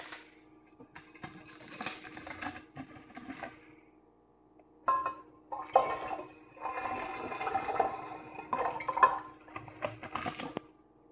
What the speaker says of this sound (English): it's as simple as pouring the yeast slurry into the new yeast starter.